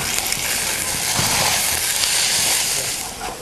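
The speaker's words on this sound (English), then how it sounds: "Saute the onions till they're about transparent" Onions and ginger garlic paste sauté in a pan for boneless chicken masala, giving a steady, close sizzling hiss with faint stirring scrapes throughout.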